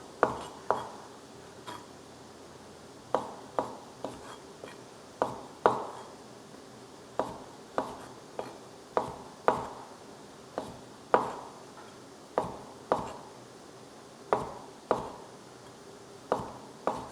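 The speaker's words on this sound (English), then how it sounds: "I'm going to get some olives out of this, and I'm just slicing these up." Knife slicing olives on a cutting board in a home kitchen, a steady series of sharp, close chopping taps repeating at an irregular rhythm, with no talking.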